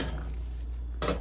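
A lid goes onto a cooking pot with one short metallic clink near the end, after a quiet kitchen lull.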